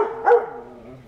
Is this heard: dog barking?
yes